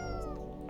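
A small cat meows in a drawn-out, wavering cry with layered harmonics, close and alone, trailing off near the end.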